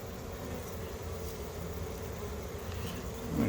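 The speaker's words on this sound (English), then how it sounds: "this many bees, there's probably at least 5 pounds of bees here" Dense, steady buzzing of a honeybee swarm, continuous and close, with no voices.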